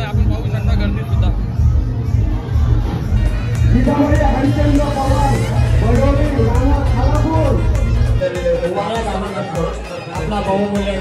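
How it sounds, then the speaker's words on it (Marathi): Dense chatter of a large crowd of devotees gathered at a temple festival for Kelamba Aai's third maal, a steady murmur of many voices with a low rumble beneath, easing slightly near the end. "आज भक्तांचा महापूर आलेला आणि गर्दी भरपूरच आहे"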